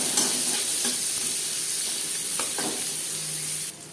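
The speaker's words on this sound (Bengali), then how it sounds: "20-25 সেকেন্ড 5 ফোড়ন ভেজে নেওয়ার পর দিয়ে দেবো গাজর" Carrots frying in a pan after a five-spice tempering, a steady close sizzle with occasional stirring scrapes, continuous throughout and easing slightly at the very end.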